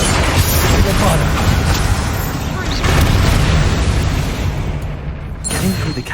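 A Bombarda spell blast in the video game Hogwarts Legacy gives a loud, dense, rumbling explosion that roars on for several seconds, mixed with layered game effects and combat noise.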